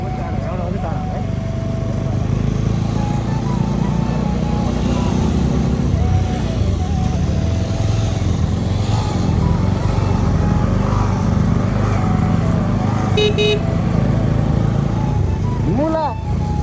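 An overheating vehicle engine grinds up a rough, rutted mountain road in Mustang, Nepal, as a loud, continuous rumble with a rattling undertone that lasts throughout, while people talk over it.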